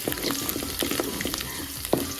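Mustard seeds, cumin, garlic and thinly sliced dry chillies fry in oil with peanuts for a tempering, crackling and sizzling up close while a spoon stirs them with quick scraping strokes.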